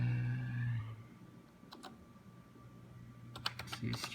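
Brief clusters of key clicks on a computer keyboard as a Windows command is entered, faint and close, after a low hum at the start.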